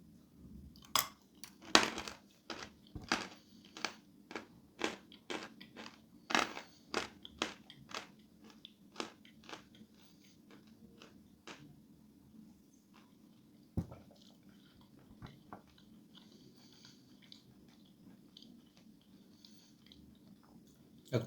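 Sawn chalk is bitten and chewed close to the mic, giving a steady run of crisp, dry crunches, about one or two per second, that grow sparser and fainter toward the end over quiet background hiss.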